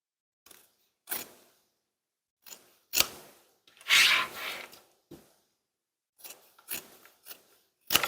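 Scissors snip away excess fabric from a sewn zipper pocket on a bag, a series of close, crisp cuts in short irregular bursts with quiet gaps, one longer slicing stroke midway.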